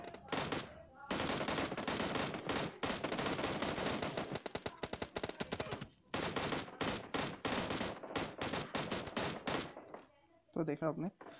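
Dense, loud bursts of automatic gunfire from a PUBG match fired while the player is on the move, rapid volleys broken by short pauses, with a few separate shots near the end.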